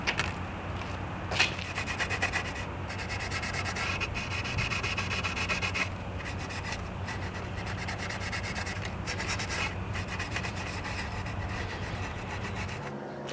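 Steady scrubbing and rubbing against a plastic LS engine intake manifold during cleaning, a continuous close abrasive rasp with rhythmic strokes and no talking.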